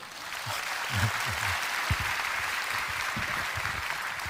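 An audience at a workplace prayer gathering claps, a steady wash of many hands applauding together for several seconds, moderately loud and even, with a voice murmuring low underneath.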